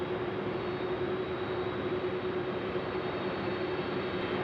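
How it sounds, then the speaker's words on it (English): Aircraft taxiing at night at Sydney Airport, a steady distant engine drone with a constant tonal hum under broadband roar, unchanging and with no talk. "we'll be seeing them taxi then to the Alpha 1 holding point for a departure at runway 16 right"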